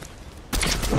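In a video game, a sudden burst of loud, crackling gunfire kicks in halfway through, rapid and close, after a half-second of quieter background noise.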